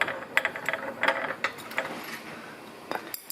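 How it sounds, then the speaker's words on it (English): A hand ratchet clicks in quick bursts while backing out socket cap screws from the bottom of a take-up block on an RLC250 belt conveyor, close and alone with brief pauses between strokes. "take out the two socket cap screws in the bottom of the block"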